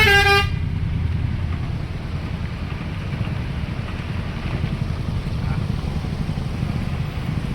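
Road traffic in a Gujarat jam during the monsoon: a car horn toots briefly at the start, then a continuous rumble and wash of engines and tyres carries on at steady loudness.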